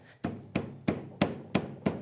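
A hammer strikes wood six times at an even, unhurried pace, each a sharp close knock with a short thud, in a quiet woodworking shop.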